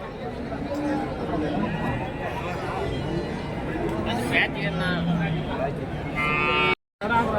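Cattle and calves low and moo at a crowded cow market in Karimangalam, Dharmapuri district. Several calls rise over a constant murmur of voices and chatter before a brief sudden dropout near the end.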